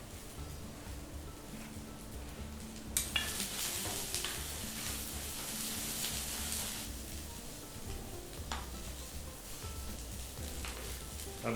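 Onions and green chilies sizzle in hot oil with carom seeds and garlic while being stir-fried for stuffed bitter gourd, a steady moderate frying hiss punctuated by occasional spatula scrapes and stirring clatter.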